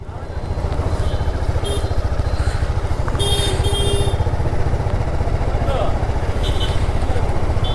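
A new TVS Apache RR310 motorcycle riding slowly on a road, its engine a steady close drone under wind, with a faint horn or two from nearby traffic.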